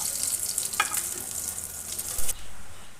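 Pieces of boal catfish frying crisp in a pan of oil, a continuous close sizzling hiss with a few scraping stirs, quieting briefly near the end, no talking.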